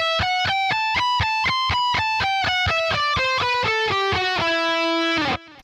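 A distorted electric guitar picks a fast lick of evenly spaced notes that gradually step downward in pitch, ending on a sustained note before stopping.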